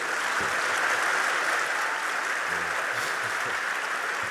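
An audience applauds steadily, a dense wash of clapping that holds at an even level from start to finish.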